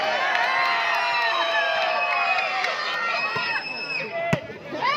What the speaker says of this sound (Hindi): जोरदार तालियों से हौसला बढ़ाया दोनों टीमों का